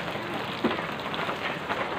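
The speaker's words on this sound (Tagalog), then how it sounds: "Ulan kasi yun" Heavy rain pours down in a dense, even hiss, with a single faint tap standing out briefly.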